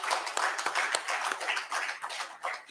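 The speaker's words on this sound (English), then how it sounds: "Give a big round of applause." Audience applause at the inaugural session of a Coal India industrial relations conclave in Bhubaneswar, a cluster of hands clapping in close, uneven bursts for under three seconds.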